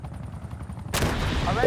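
Rapid sustained gunfire from a minigun in a video game, a dense continuous roar that starts abruptly partway in and stays loud, with low game rumble and faint talk before it.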